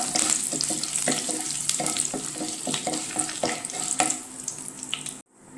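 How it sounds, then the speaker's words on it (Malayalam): Dried red chillies fry and sizzle loudly in a pan with mustard seeds and curry leaves, with constant crackling and spattering and repeated scraping stirs, then the sound cuts off sharply. "വറ്റൽ മുളക് ഇളക്കി കൊടുക്കുക."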